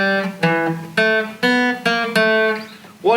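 Guitar playing the first two bars of a practice piece slowly, six or seven plucked notes at an even pace, each ringing briefly before the next, close and clear with no talking.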